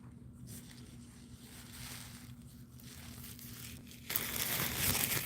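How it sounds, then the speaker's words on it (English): A plastic dog waste bag crinkles and rustles as it is pulled out during an outdoor dog walk, a steady close crackle that grows louder and harsher toward the end over a faint background hum. "Let's get this bag out here and take care of this."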